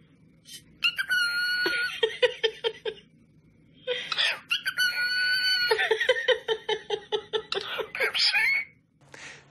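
A rooster crows loudly and repeatedly in long bursts while chickens cluck in quick rhythmic runs, close by with quiet gaps between calls.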